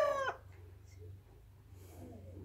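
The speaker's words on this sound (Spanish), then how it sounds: "Y aquel gallo está encerrado" A rooster's crow sounds briefly at the start, fairly close and clear, then fades into faint farmyard background noise.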